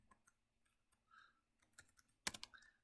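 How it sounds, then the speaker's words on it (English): Quiet keystrokes tap on a computer keyboard in scattered, irregular clicks. A sharper cluster of presses lands near the end. "So I can type that in."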